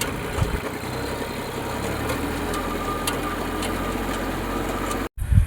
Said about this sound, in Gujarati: તો મિત્રો હવે હું મૂકી આવું ટ્રેક્ટર ઢાળીએ.